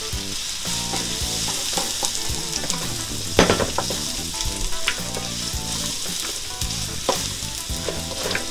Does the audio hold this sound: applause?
no